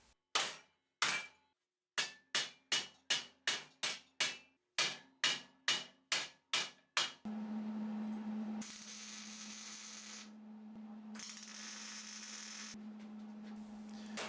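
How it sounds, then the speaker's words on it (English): Hammer blows forming the sheet-metal upper cylinder of a cyclone dust collector: about a dozen sharp, ringing metallic strikes at a steady pace, then a continuous mechanical whir with a low hum. "Here's the upper cylinder being formed. I used the same basic method, just bigger and with larger hammer swings."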